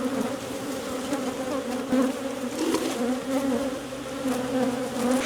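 Honey bees buzz around an open beehive during a hive split, forming a dense, continuous, close hum of many wings that swells and fades slightly, with no talk.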